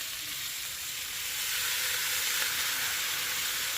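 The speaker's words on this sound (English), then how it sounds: "crank that up to high, and now I'm going to add all of my shrimp." Shrimp sizzle loudly in a hot pan over high heat, a dense steady frying hiss that swells slightly partway through and carries on without any talking.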